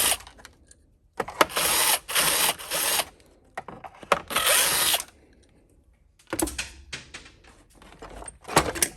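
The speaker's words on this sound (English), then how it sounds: "undo these two screws, and on the exact same part on the other side" Screws being undone on a Bissell Cleanview vacuum with a power driver, several loud close whirring bursts separated by short quiet gaps.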